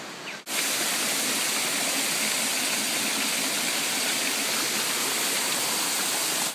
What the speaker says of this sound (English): We're way out in the jungle searching for a waterfall that's supposed to be here.